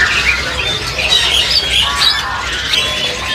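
Many caged birds, including cucak pantai, call at a bird shop kiosk, with loud, close, overlapping squawks and chirps that continue without pause.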